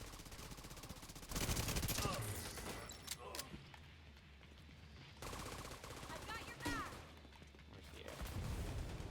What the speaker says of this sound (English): they had like 6 of our guys shooting at one dude